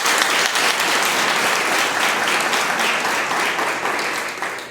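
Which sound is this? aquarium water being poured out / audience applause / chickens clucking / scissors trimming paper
audience applause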